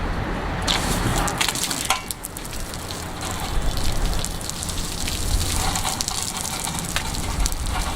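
Water sprayed like rain onto a cow-dung plastered outer wall makes a dense, loud, continuous hiss and patter, steady throughout with slight surges.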